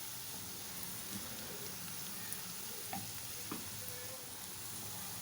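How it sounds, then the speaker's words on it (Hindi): Onions frying in a pan until golden for chana dal keema, a steady soft sizzle with faint stirring scrapes throughout, fairly quiet and with no voice. "थोड़ा सा इसको भी हम और फ्राई करेंगे।"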